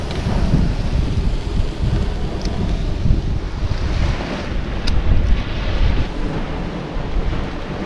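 Sea waves wash steadily onto the shore at a seaside spot, mixed with gusty wind buffeting the microphone, a continuous loud rushing roar with no voices.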